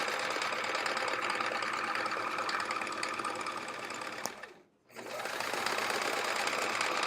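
A sewing machine runs steadily, stitching the green fabric back of an hourglass block quilt, then stops briefly and starts again at the same even hum.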